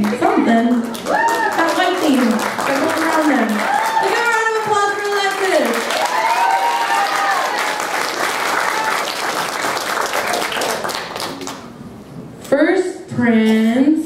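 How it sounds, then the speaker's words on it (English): Audience applause breaks out at a children's pageant, a steady wash of clapping that runs under an excited announcer's voice and cheering children across the whole stretch. "Look at a round of applause for Alexis."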